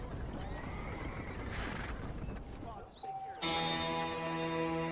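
A warhorse in a video game gives a whinnying neigh amid background game noise, with a few hoof clops. A steady music-like tone enters near the end.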